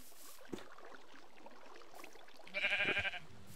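A sheep in the Minecraft video game gives a short wavering bleat, clear and fairly close, against faint game ambience with a soft thump just before.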